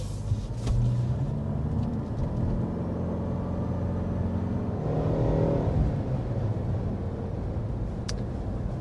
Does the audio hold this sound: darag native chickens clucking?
no